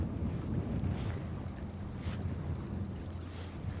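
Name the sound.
boat moving out on the water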